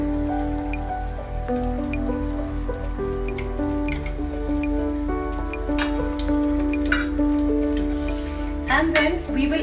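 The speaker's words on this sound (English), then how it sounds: "we've added the sugar, now we just wait for it to caramelize" Sugar caramelizing with a little oil in a pan for Parsi dhansak, a steady close sizzle and crackle with scattered pops and drips running throughout.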